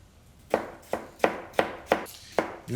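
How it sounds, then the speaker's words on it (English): A knife chops vegetables for fish stock on a cutting board, about seven evenly spaced, sharp, close thuds in a steady rhythm, with no talking. "slice, but not too thick."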